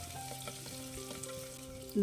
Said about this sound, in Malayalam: ഒരു 15-20 സെക്കൻഡ് മാത്രം ഉള്ളി വഴറ്റിയെടുത്താൽ മതിയാകും